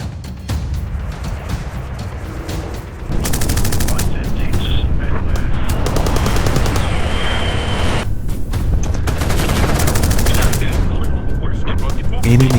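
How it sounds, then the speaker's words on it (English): Fighter plane machine guns fire at a B-17 bomber in dense, continuous rattling bursts that grow louder and heavier after the first few seconds, with a steady roar underneath. "Enemy fighters swarmed the formation, their guns blazing."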